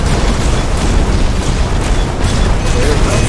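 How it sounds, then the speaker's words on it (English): Shotgun blasts from a mech in a video game, a dense continuous barrage of loud booming bursts filling the whole moment, harsh and close. "that shotgun rips"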